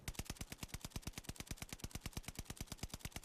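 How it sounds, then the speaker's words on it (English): Fully automatic STG44 fire in Call of Duty Vanguard comes as a rapid, even stream of sharp shots. The rounds crack loud and close for the whole stretch with no talking. "So I'm gonna shoot and I'm gonna see what the recoil goes with the Strikepack this time around"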